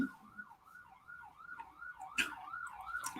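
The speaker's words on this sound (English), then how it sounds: "sorry for the ambulance" An ambulance siren wails in a steady rising-and-falling cycle, moderately loud and fairly close, with a few sharp bursts of background noise mixed in.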